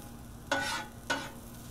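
Shrimp frying on a Blackstone griddle, heard as two short bursts of scraping and sizzling as they are moved around, each lasting about a quarter second, over a low steady background hum.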